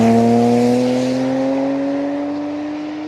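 A BMW twin-turbo N54 inline-six engine sings out loud and close, its exhaust tone steadily climbing in pitch as it revs, then slowly fading.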